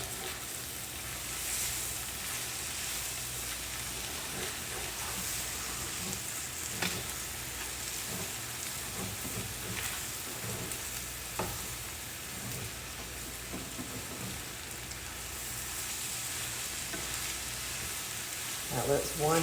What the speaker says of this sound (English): So I'm going to mix the meat and the veggies together.